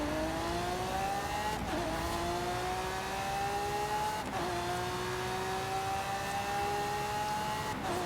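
A racing car engine in a video game revs up through the gears in a steady whine that climbs in pitch, drops at each shift and climbs again, heard loud and alone.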